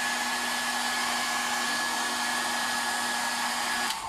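Hot air blower heating a McFarlane Toys Warhammer 40K Khorne Berzerker action figure during a custom repaint, a steady close whooshing drone with a constant whine, running alone until it cuts off abruptly near the end.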